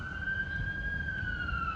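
A wailing emergency vehicle siren in Brooklyn sounds steadily, fairly loud and continuous over low city traffic rumble, with no talking.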